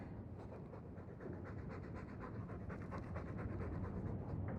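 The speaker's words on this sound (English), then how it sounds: "All that noisy dog breath, day in, day out." A dog pants heavily in a video game, a fast steady rhythm of breathy huffs that runs continuously and fairly close with no talk over it.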